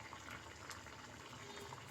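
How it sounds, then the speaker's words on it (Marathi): Broccoli soup boiling in a pot, a faint, steady bubbling and simmering of water that stays even throughout with no talking. "आणि उकळी तर फुटली आहे"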